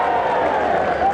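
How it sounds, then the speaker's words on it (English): A crowd at a 1983 crown green bowls pairs semi-final applauds in a steady, dense wash of clapping and murmur that fills the short moment. "Crowd now really rising to these Warwick and Worcester county men."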